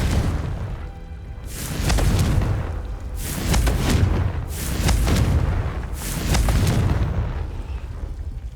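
Spell explosions from the Confringo curse in Hogwarts Legacy, four heavy booming blasts in a steady rhythm about a second and a half apart, each a broad crackling burst that swells and fades.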